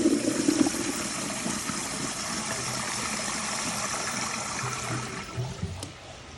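A Kohler Kingston wall-mounted toilet flushes with a steady, loud rush of water that holds evenly for several seconds, trying to pass a washcloth and a grocery bag, then gurgles and tapers off.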